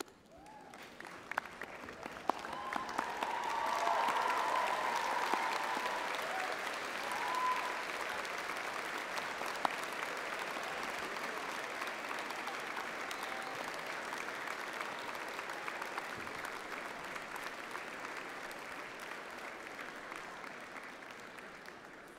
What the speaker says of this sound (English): join me in showing your thanks with a huge round of applause and some cheering